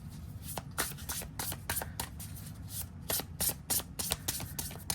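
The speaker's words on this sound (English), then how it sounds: "I love it when I can hear the smushing of the cards together like that." Tarot cards riffle and rub together in quick, uneven bursts, a soft close-up shuffling that repeats steadily over a low background hum.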